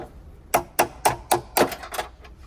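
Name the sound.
hammering on car trim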